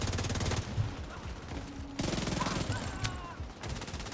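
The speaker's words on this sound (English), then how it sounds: "The nail gun." Rapid nail gun fire in a shooter video game, long rattling bursts of fast repeated shots broken by short pauses, loud and steady, with a voice faintly underneath.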